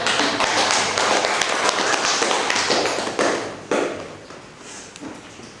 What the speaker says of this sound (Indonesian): Ya, silakan kasih tepuk tangan.